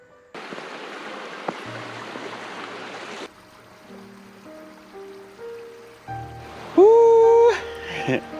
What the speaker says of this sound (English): Oh, that's a creek.